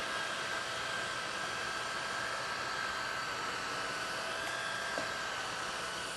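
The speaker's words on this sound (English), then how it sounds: "Still plenty of suction power there. You can hear the machine speeding up." A Riccar R65 cordless stick vacuum running in auto mode, a steady, whooshing motor whine with constant airflow noise, close up, alone without talk, quiet in overall level.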